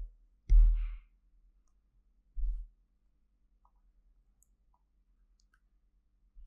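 Two soft computer mouse clicks sound about two seconds apart in a quiet room while selecting the print option in Odoo 15 ERP, the first slightly louder, with near silence between and after.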